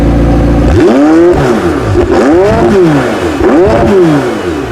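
A McLaren 720S Spider's optional sport exhaust barks and revs repeatedly, the engine note sweeping up and falling back in several loud, close blips after a low idle.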